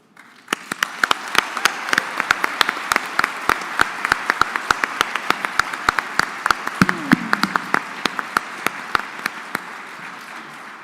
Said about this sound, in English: I wondered if the audience would like to give them another round of applause.